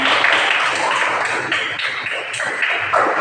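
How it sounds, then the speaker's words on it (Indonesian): A classroom of students applauding, a loud, close, uneven patter of many hands clapping together and continuing steadily with slight swells. "tepuk tangan semua"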